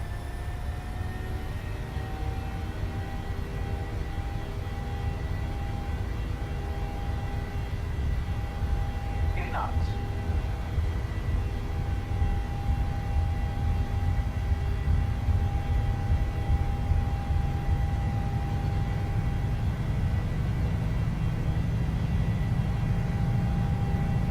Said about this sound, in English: I love the sound of the 37 engines.